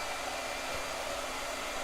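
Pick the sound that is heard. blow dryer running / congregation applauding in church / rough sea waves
blow dryer running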